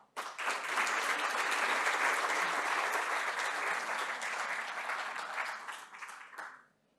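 Audience applause at a Chilean business forum on sustainable infrastructure, a steady room-filling burst of clapping that swells quickly, holds for several seconds and tapers away to silence.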